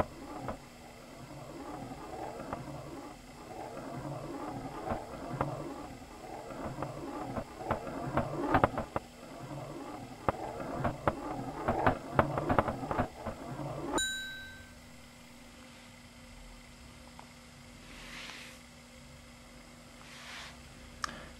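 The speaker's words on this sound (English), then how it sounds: "To make the sound more realistic, we adjust both the pitch and the volume according to the speed of the ball." A ball rolling and clattering through a tilting Labyrinth maze game, a rattling, uneven rumble that grows busier then stops abruptly, followed by a few bright metallic dings in the quiet afterward.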